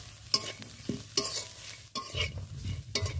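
Chili, coriander and cumin powders stirred together in a pan, a spatula scraping in several irregular strokes over a low, steady sizzle, fairly close with no talking.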